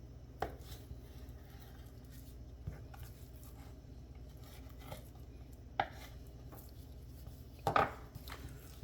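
A knife cuts through a rack of pork ribs beside the bone on a cutting board, giving a few faint, sparse thuds and chops over a low, steady kitchen hum.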